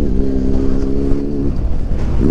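An ATV engine runs close by, a loud, steady motor drone with a slight pitch shift partway through, on a mountain road trip from Manali to Jispa.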